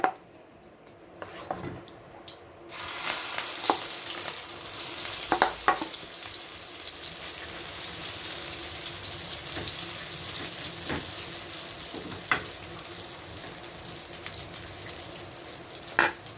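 A fish omelet of egg and fish drops into hot oil and fries with a steady, bright sizzle, starting after a brief clatter and staying even for over ten seconds, with occasional utensil taps.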